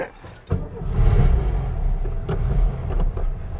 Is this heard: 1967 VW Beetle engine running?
yes